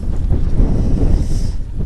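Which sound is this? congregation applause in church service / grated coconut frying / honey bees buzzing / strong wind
strong wind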